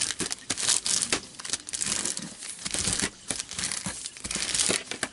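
A paper bag being folded gives loud, close crinkling and crackling in irregular bursts with brief pauses, and no one speaks.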